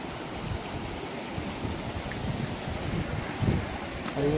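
A mountain stream rushes steadily at a water crossing near Sheshnag lake, a broad continuous wash of flowing water heard close and loud with no talking.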